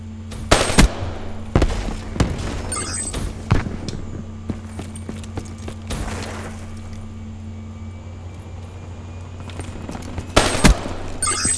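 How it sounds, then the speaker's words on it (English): Gunfire from a shotgun and other weapons in a hardcore Black Ops 3 multiplayer match, with sharp loud shots in irregular clusters at the start and again near the end over a steady game hum. "That kid's using a shotgun."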